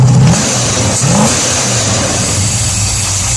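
A 1971 Dodge Demon 340 V8 with an Edelbrock AVS carburetor is revved hard off idle, a loud burst of throttle early on that settles back into a steady, rough idle rumble.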